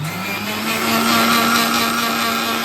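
A kitchen mixer grinder running continuously, a loud steady whirring motor drone with a constant hum, close by and with no one talking.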